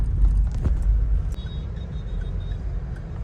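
Mahindra Thar Roxx driving on the road to Noida, a steady low engine and road rumble heard from inside the cabin, continuous and fairly loud, with a brief faint jingle near the start.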